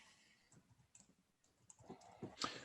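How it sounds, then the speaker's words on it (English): Quiet, scattered key clicks from typing on a computer keyboard, soft and close, with a brief louder flurry of taps near the end. "I was typing here"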